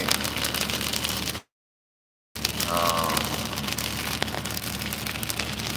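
Rain dripping off ice-laden power lines in a winter storm, a steady broadband patter of drops close by, continuous except for a one-second dropout near the start.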